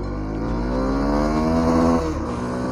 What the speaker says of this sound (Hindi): बहुत पावरफुल बाइक है और एग्जॉस्ट की साउंड बहुत ही गजब